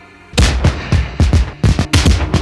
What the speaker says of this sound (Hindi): आतिशबाजी कितनी एडवांस हो गई है